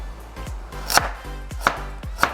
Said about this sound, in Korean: 당근 3분의 1 정도를 잘게 채 썰어주세요.